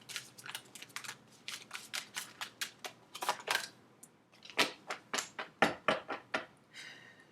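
Rapid bursts of crisp tarot card riffling and flicking, several quick shuffles in a row with short pauses, close and fairly quiet.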